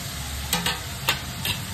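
Vegetables with capsicum and chopped tomato stirred and fried in a pan, a continuous sizzle broken by a few distinct scraping strokes of the spoon against the pan, close and clear with no voices.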